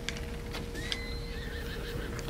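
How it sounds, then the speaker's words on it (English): A horse in Zelda: Breath of the Wild whinnies after being struck, a clear rising-then-falling neigh over a steady game hum, with faint clip-clop of hooves around it. "Oh, I think I hit the horse."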